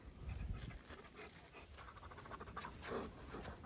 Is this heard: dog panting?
yes